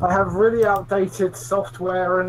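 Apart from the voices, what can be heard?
No distinct noise like a dog, phone or traffic.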